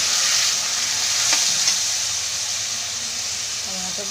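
Steady sizzling and hissing of tomatoes frying in a hot pan over medium heat, with a brief stir partway through and no talking.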